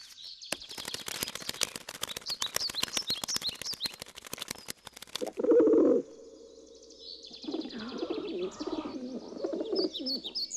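A pigeon coos in low, soft, repeated calls partway through a scene from an Indian film, after a stretch of fast clicking and flutter, with chirps near the end.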